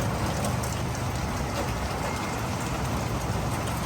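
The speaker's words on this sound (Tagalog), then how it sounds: "Simula kanina umuulan" Heavy rain pouring down outside a shop, a dense, steady hiss of falling water and splashing on surfaces, constant and enveloping with no voices.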